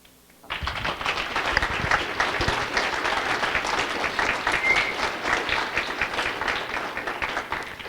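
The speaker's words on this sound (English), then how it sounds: "That's well-deserved applause" At a Michigan Atheists awards event, an audience breaks into applause after a brief quiet moment, full, steady clapping from many hands that stays strong for the rest of the clip.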